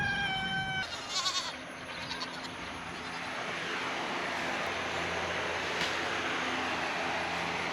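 A goat on a homestead lets out one clear, close bleat at the start, followed by a faint steady outdoor background with a distant aircraft-like hum and no talking.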